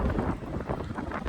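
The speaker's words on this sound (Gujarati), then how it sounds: "બહુ જ ખરાબ પવન આવવા લાગ્યો છે યાર" A strong night wind gusts and buffets near Tarapur, Gujarat, blowing dust in a fairly faint, rough rushing noise that swells and dips unevenly.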